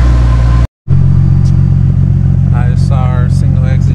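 A Nissan 370Z fitted with an ISR Y-pipe and single-exit exhaust idles with a loud, deep drone, cuts out briefly, then rumbles on as short rising revs swell near the end, close and alone.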